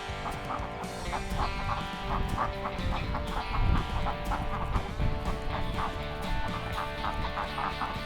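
A dense flock of farm chickens with roosters clucks continuously and loudly close by, overlapping calls forming a steady busy chorus throughout.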